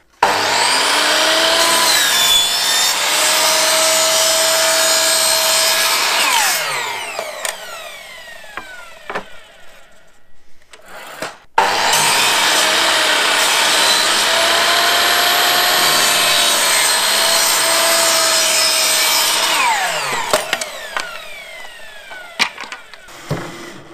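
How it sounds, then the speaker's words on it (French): Hand tool cutting and sanding a small piece of wooden board, a steady rasping stroke sound filling two long stretches separated by a brief quiet pause, loud and close with no talking. "Je vais découper un petit morceau pour venir le caler ici bien tranquillement"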